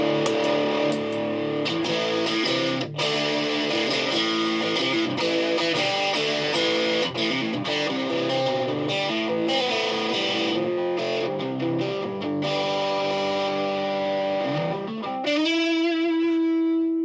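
An electric guitar plays through a budget Temu distortion pedal into a Roland Cube amp, giving sustained, fuzzy distorted chords that ring continuously and end on a held, wavering note.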